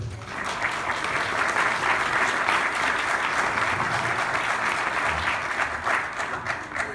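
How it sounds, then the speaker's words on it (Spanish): A steady, full round of clapping comes from an audience in the Mexican Senate, welcoming author Jorge Castañeda. It continues evenly throughout without pause. "les pido un fuerte aplauso para él"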